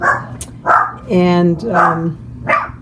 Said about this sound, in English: I'm sorry for my dog. He loves to bark with any little thing that comes around.